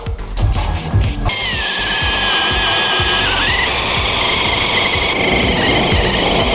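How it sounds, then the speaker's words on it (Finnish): A power drill bores out spot welds on the body panels of an Audi 100 C1 restomod. A few short, choppy bursts give way to a loud, continuous whine whose pitch dips and shifts as the bit cuts through the sheet metal. "Tuolla on vielä meillä tommoset pistehitsit, niin porataan ne auki."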